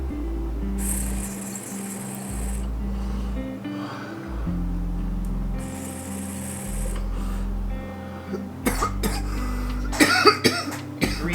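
Repeated harsh coughing after a dab from a Puffco Peak concentrate rig, coming in several bursts with short gaps. A steady low hum runs beneath, and sharper coughs cluster near the end.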